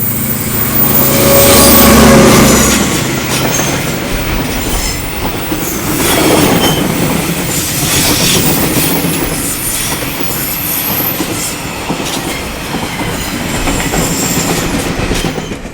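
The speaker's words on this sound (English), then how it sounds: "we see DL 9008, the class leader, heading south on train 229" DL 9008, the class-leading DL diesel locomotive, hauls train 229, with a loud engine swell early on, then steady clickety-clack of wagons and high squealing wheels as the train rolls past.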